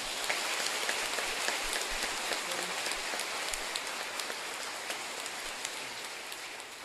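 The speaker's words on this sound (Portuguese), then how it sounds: "Vamos aplaudir esta palavra." Dense, steady crackle of many hands clapping, like a church crowd applauding continuously without pause.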